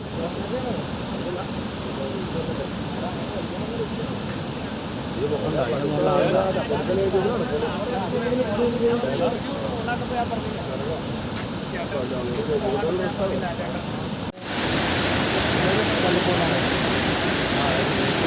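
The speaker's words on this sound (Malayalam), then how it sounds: "ഡാമിലെ വെള്ളം പുറത്തേക്ക് പ്രവഹിച്ചുകൊണ്ടിരിക്കുകയാണ്" Water gushes continuously through the damaged Bhoothathankettu check dam, a dense, roaring rush that is loud and unbroken, with someone speaking over it.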